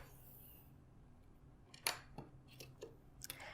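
Scissors cut through craft paper for a 3D Christmas tree, giving a few quiet, close snips and clicks after a short hiss, with one sharper cut standing out.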